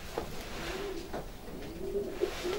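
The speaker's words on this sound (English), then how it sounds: "Beautiful pigeon." A long-distance racing pigeon coos in its loft in Belgium, with soft, low, rolling calls repeating every second or so, close and steady over a hushed, airy background.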